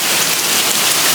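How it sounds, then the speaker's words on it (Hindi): Heavy rain pours down in a dense, steady hiss of close drops, loud and unbroken. "इतना नहीं भीगोगे, मोटी बारिश है"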